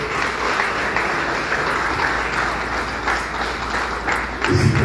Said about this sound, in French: L'encourager avec quelques acclamations